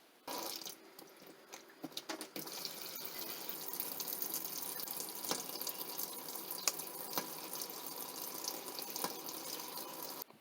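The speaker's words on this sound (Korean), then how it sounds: "저희가 이렇게 수돗물을 채워 가지고 작동하는 방법을 알려드리도록" Tap water pours into the boiler of a Märklin toy steam locomotive, a steady close splashing and trickling stream with small clicks and knocks from handling the container, no one speaking.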